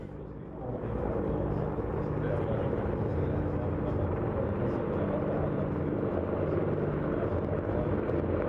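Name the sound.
military helicopter at air show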